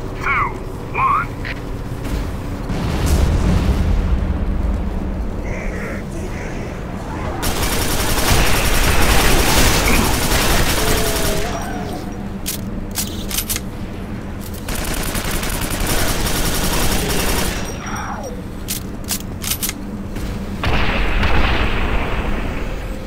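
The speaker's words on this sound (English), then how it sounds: "Orbital artillery has just been informed. Bombardment to commence in 3," Explosions from an orbital artillery bombardment in the video game Quake 4 roll in as sustained, rumbling barrages in several loud waves. Game dialogue is heard between the blasts.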